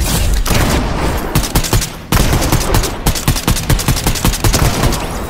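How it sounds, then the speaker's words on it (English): Rapid bursts of gunfire from two bots shooting at each other in Fortnite, loud and close, with dense rattling volleys broken by short gaps. "These are two bots shooting at each other."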